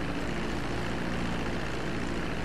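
A propeller airplane's engine in the video game GTA 5 drones as a steady, dense, loud roar with no break, no voices over it.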